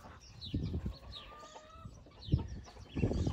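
Backyard chickens cluck in short, uneven bursts, fairly quiet and close, with brief higher calls between the lower clucks.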